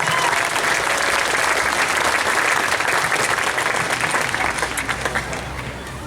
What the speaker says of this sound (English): If you will help me give her an enormous round of applause to say I'm sorry.